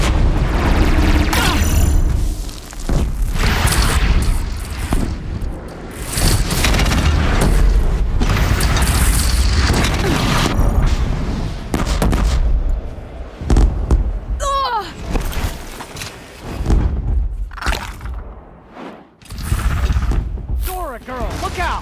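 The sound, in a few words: Deathbringer machine gunfire and explosions in Horizon Zero Dawn video game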